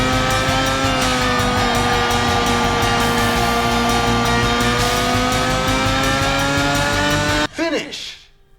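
Arcade racing cars in a PS2 video game roar at high, sustained engine pitch with tire squeal for several seconds, then cut abruptly to a brief sweeping effect; a voice talks over the engines.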